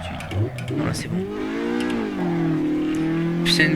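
A Citroën Saxo's engine climbs through the revs in the Assetto Corsa racing game on the Brasov map, a rising buzzy drone under someone talking in French throughout.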